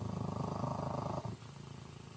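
A cat purrs close up in a rapid, rhythmic rumbling pulse, loud for about a second before dropping to a quieter, softer purr.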